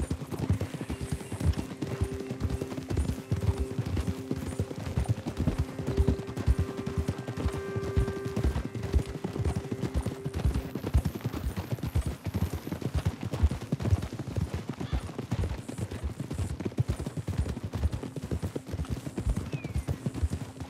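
Horse hooves clip-clop in a fast, steady rhythm on a hard surface in the video game Red Dead Redemption 2, close and continuous, with a faint tonal hum in the background.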